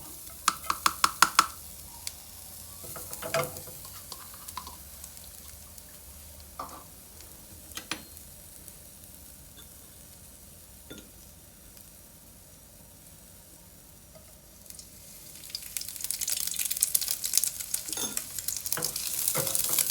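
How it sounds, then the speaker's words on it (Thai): Garlic frying in a pan, a soft low sizzle with scattered clicks and stirring taps, swelling into a louder, brighter crackle near the end, no voices. "เจียวกระเทียมให้หอมก่อนนะครับ"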